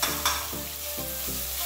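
Tomato and garlic sizzling in a pan while being stirred, a steady close frying hiss with soft rhythmic scrapes of the spoon against the pan, heard alone.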